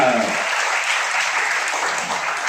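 An audience at a pub event claps in a steady, dense burst of applause, loud and close, sustained evenly throughout without pause.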